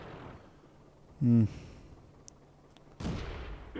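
A tank cannon fires in the video game World of Tanks, one short heavy boom followed later by a second blast and rumble, set against a low game ambience with faint speech.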